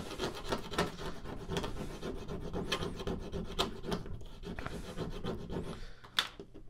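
A coin or fingernail scratches at a scratch-off card from a board game prototype, giving a steady run of quick, raspy rubbing strokes up close, ending with a sharper scrape and a brief pause.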